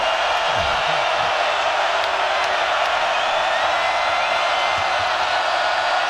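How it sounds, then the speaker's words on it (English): Dense, loud roar of a college basketball arena crowd at a UCLA versus Arizona Wildcats game, cheering steadily while the defense tries for a stop, continuous and unbroken throughout. "Crowd trying to help the Wildcats to a much-needed stop here."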